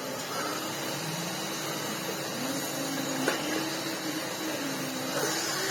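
A Kalado KCV-01 vacuum cleaner with an early-style turbo head runs in a steady, close, continuous whooshing drone with a faint whine, unchanged throughout.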